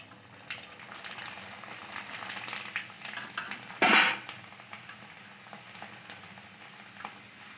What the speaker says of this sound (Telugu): ఇప్పుడు మూకుడు పెట్టుకొని ఆయిల్ పోసుకున్నాక నూనె కాగింది చూడండి.